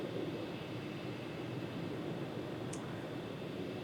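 An airliner lands at John F. Kennedy International Airport in New York in Microsoft Flight Simulator 2020, a steady broad engine roar with a single brief click partway through and no talking.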